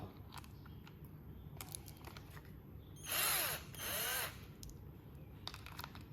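An Inntech cordless drill's chuck being loosened, with a couple of short, whirring bursts of the motor among quieter clicks and handling noises, no speech.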